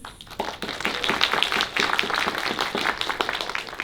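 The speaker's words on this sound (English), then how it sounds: "A little applause for Dane, please." Audience at a cookbook panel during a Vietnamese book festival applauding a panelist, a steady, moderately loud round of many hands clapping throughout.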